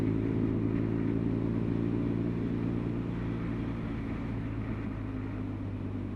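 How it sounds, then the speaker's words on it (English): A BMW R nineT motorcycle engine braking downhill with the throttle closed, a steady low engine drone with harmonic hum held throughout, gently fading as the bike slows, no voices. "close the throttle and the bike speed is coming down, right down to 30, which is just perfect, no brakes required"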